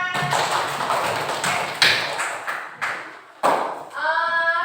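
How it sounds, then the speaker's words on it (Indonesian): A classroom of pupils claps hands in a rapid patterned rhythm, several bursts of dense clapping with short pauses, close and lively, ending as a voice starts to speak. "Tepuk tangan."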